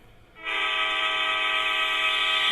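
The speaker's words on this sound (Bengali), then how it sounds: "আমি একটু হরেন বাজাই, হরেনের।" Train horn in the Indian Bike Driving 3D video game, a loud sustained synthetic horn tone that starts abruptly after a short quiet moment and holds steady to the end.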